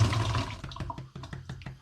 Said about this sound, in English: I'm going to begin by just pouring the coconut water in